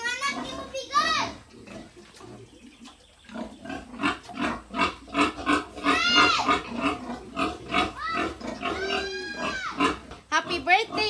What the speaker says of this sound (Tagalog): Nanganak ang baboy.